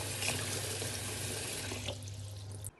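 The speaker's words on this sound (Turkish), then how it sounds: "Çileklerimizi bir güzel yıkıyoruz. Güzelce sudan geçirelim." Tap water runs steadily into a sink as strawberries are rinsed under it, a close, continuous splashing flow that cuts off abruptly at the end.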